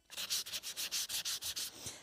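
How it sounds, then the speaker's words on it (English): A thrifted planter is lightly sanded by hand in quick, rhythmic back-and-forth scratchy strokes, about ten in two seconds, close and fairly quiet, with no talk. "Just give her a light sanding."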